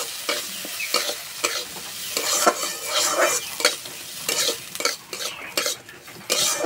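Washed Gobindobhog rice fries in a pan while a spoon stirs it, scraping and clinking in an uneven rhythm over a soft sizzle, close and fairly loud, with no talk.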